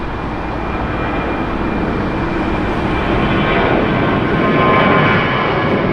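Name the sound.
Southwest Airlines plane taking off at LAX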